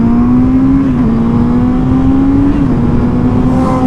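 A Honda CB650R motorcycle engine held at full throttle gives a loud, close, steady droning roar with a strong tone that dips slightly once or twice, and no voices.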